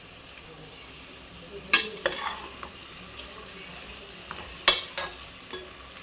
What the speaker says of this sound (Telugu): అన్నీ వేసుకొని ఇట్లా వేయించుకోవాలి